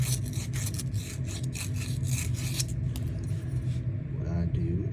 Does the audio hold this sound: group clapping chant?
no